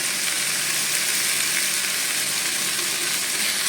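Oil sizzles steadily in a pan as a fish curry base fries with salt and turmeric, a continuous bright crackling hiss with light stirring, close and even throughout.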